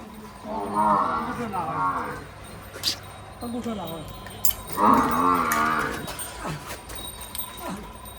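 Buffalo lowing in two long, deep moos, close by, with brief voices and a dog's whimper in between, in Banaskantha.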